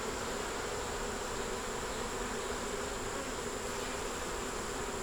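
Honey bees in a crowded hive full of brood, eggs and stores make a dense, continuous buzzing hum, close and steady throughout with no voices.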